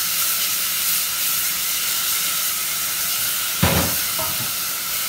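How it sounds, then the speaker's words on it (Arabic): Onion sautéing in a pan with turmeric, curry spices and a little salt, a steady close sizzling hiss running throughout with a brief louder burst of frying near the end. "هندبل البصلة وننزل فيها بالتوابل طبعا اللي انا قلتلكوا عليها، توابل هي كركم وكاري وشوية ملح"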